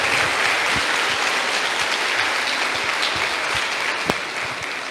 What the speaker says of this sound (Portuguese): Um aplauso para você também.